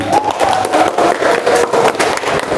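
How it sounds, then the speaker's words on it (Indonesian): Applause and cheering from a classroom crowd of students, a dense, steady patter of claps filling the moment alone. "Kasih tepuk tangan."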